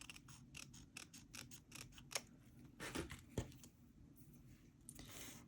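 Scissors snipping away overhanging fabric on a tote bag: a quick run of close, crisp cuts followed by a few slower, heavier snips and some rustling of cloth.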